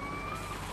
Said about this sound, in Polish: Włączę syreny.